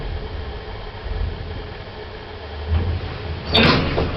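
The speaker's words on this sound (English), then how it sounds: "Doors opening." Lift doors in a shopping centre slide open with a soft rolling rumble over the low drone of the car, ending in a brief bright clunk near the end.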